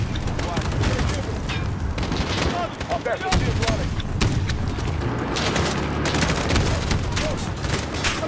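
Dense gunfire in Call of Duty Modern Warfare 2019 on realistic difficulty: rapid bursts of rifle shots and booming impacts crackle nonstop, loud and close, with a brief lull near the middle.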